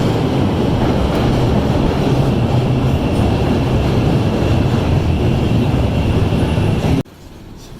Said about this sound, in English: we're going to board a Metro Electric District train